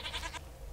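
Goat bleating in Minecraft: a single short, wavering bleat lasting under half a second, close and clear, followed by quiet.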